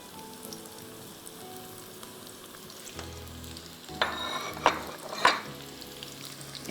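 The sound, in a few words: chopped onions and cumin seeds frying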